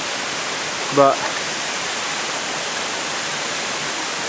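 Fukino Waterfall in Ajimu roars in a constant, dense rush of falling water throughout, with one short spoken word briefly heard over it.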